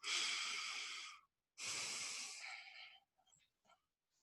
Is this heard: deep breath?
yes